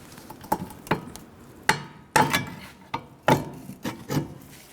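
Sharp metallic hammer blows ring out in an irregular series of about ten strikes, separating a 2006-2012 Ford Fusion rear shock from its knuckle, loud and close with no talking.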